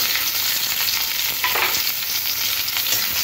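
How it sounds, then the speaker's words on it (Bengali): Chopped onion and whole cumin seeds fry in hot oil for a Bengali fish curry, giving a steady close sizzle with faint scrapes of stirring and no talk. "পেঁয়াজটা একটু ভাজতে হবে।"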